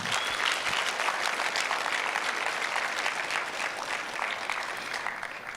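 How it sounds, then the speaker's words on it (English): A conference audience applauds in a large hall, many hands clapping in an even, sustained burst that holds steady and fades slightly toward the end, with no talking over it. "let's give a good round of applause to all of them."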